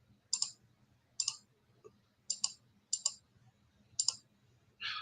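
Crisp computer mouse clicks, six distinct clicks spaced roughly a second apart, some doubled, close and clear against a quiet background hum.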